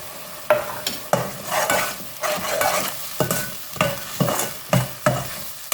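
Paste of onion, mint, coriander and green chili sautéing for Dindigul thalappakatti chicken biryani, stirred in a pan with a rhythmic series of sharp scrapes over a steady sizzle, close and moderately loud, no talking.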